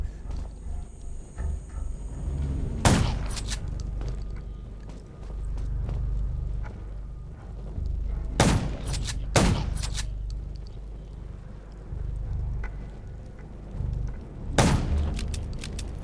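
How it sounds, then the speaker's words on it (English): Loud gunshots crack out in three separate bursts in the video game Undawn, spaced several seconds apart, over a low rumbling ambient background. "Gunshots will attract more zombies."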